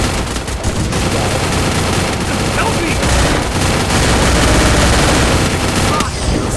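Sniper rifle and other gunfire in a video game, dense bursts of shots filling the whole stretch at a steady loud level, with a voice talking over parts of it.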